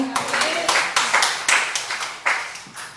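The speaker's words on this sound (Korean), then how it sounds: "하나님께 영광의 박수 올려드리겠습니다." A church congregation at a Thursday worship service claps in praise, loud and near, in a series of strong rhythmic bursts, with a voice faintly underneath.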